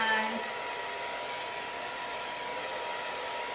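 A hair dryer fitted with a T-360 nozzle blows steadily through hair, producing a loud, even rushing whoosh that stays constant from start to finish.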